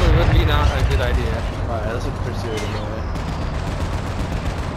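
In a video game, repeated gunshots crackle in a dense, continuous stream. The shooting stays fairly loud throughout, while a voice talks over it for most of the stretch.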